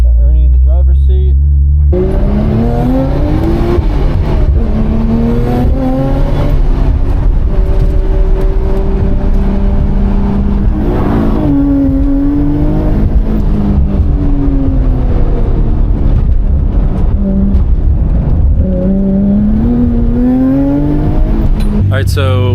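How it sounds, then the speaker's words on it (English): Interior ride-along in a JDM car: the engine revs up and down through repeated rising and falling pulls, loud and close throughout, with voices talking over it. "I'm gonna hop in, go for a little ride along with Ernie driving"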